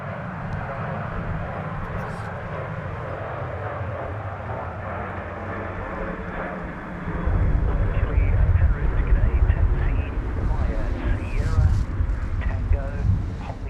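Airliner rolling down the runway for takeoff at Sydney Airport, a steady engine roar that swells louder midway amid wind buffeting the microphone, with people talking over it.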